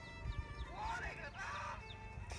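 Chickens cluck nearby in a rural setting alongside ducks, giving short rising and falling calls over a low background rumble and some faint knocking.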